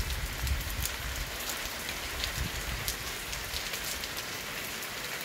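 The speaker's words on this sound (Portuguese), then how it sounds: "É chuva boa pra nós." Steady heavy rain pours down in the Bahia backcountry of Brazil, a dense continuous hiss of drops pattering on a surface, with no voices.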